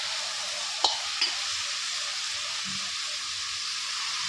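Potato and cauliflower (aloo gobi) frying in a pan with oil, a bright continuous sizzle and hiss, punctuated by two quick spoon-scrape stirs early on, close and moderately loud.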